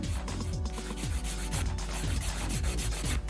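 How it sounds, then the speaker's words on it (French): A 180-grit nail file rubbing quickly back and forth over a fingernail to remove excess gel. The scratchy strokes are close and continuous with a steady rhythm, and no one talks. "je vais limer l'excédent qui est sur l'ongle"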